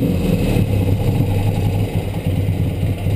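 A BMW R75/5 motorcycle engine runs at a steady idle with a fan going, a continuous low, even throb that holds level throughout, close by and loud with no talking.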